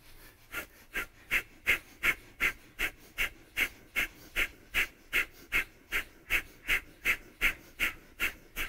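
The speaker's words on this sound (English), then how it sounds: "Last few seconds now, powerful breathing." Rhythmic, forceful breathing during a breathing exercise: about twenty quick, even breaths in steady succession, close and clear with no talking.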